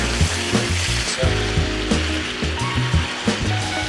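Burgers sizzle on a Skottle griddle outdoors, a steady close hiss with soft popping, under a low continuous hum.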